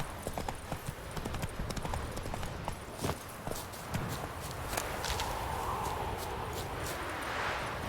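A horse in the Witcher 3 game world trots along with a steady, close clip-clop of hooves over a dense ambient outdoor background, without speech.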